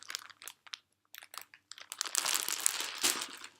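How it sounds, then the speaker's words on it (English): A plastic package of yarn crinkles close up, with a few short rustles followed by a longer, louder stretch of continuous crackling handling. "I'm sorry for the crinkling."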